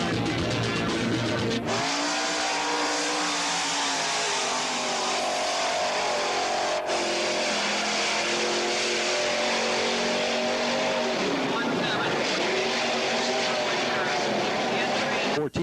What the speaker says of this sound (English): here's Purvis as he flies down the backstretch and brings his 15 car in for a checkered flag